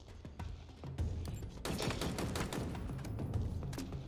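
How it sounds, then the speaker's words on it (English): Rapid machine gun fire in Halo Infinite rattles in dense bursts, joined by thumps and crackling impacts, fairly faint overall, with no talking. "It's like he had a machine gun going then."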